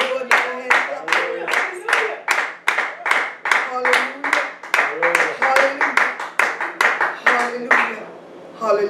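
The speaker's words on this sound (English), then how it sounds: "Let's give him a hand clap of praise." Congregation at a praise worship service clapping in unison, a strong steady rhythmic beat of sharp hand claps close by, with voices and music-like tones underneath.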